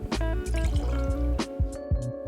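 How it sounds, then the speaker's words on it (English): Dry chili gin, a 45 ml measure, poured for a hot winter toddy, with gurgling liquid and small glassy knocks and drips close by, short bursts rather than one steady stream. "45 mils of our dry chili gin,"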